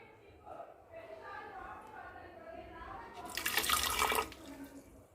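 Water is poured into a mixer grinder jar for a milkshake, a short splashing gush near the end that follows a stretch of someone talking.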